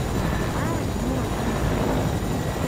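A helicopter flying in a video game gives a steady, dense rotor drone that holds an even loudness from start to finish, with low voices mixed underneath.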